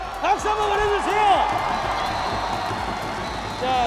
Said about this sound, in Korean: 여러분들 박수 한번 보내주세요.